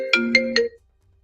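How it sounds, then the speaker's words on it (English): A phone ringtone sounds for an outgoing call, three short bright electronic tones in quick succession, then silence. "Okay, it's ringing."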